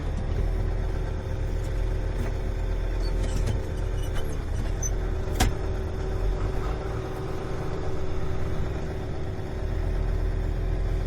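A John Deere 4440 tractor runs steadily at a low idle, its deep engine rumble constant and close throughout, with a single sharp click or clunk partway through.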